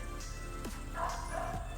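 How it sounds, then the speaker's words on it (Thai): A dog barks a couple of times in the distance at night near a resort in Khao Sok National Park, the yips faint over a steady hum of insects and background noise. "มีเสียงหมาเห่าหน่อยนะครับนะ"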